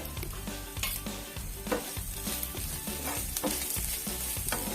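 Grated coconut and onion fry in a pan with a continuous, close sizzle, overlaid by rhythmic scraping strokes of a spoon stirring against the metal.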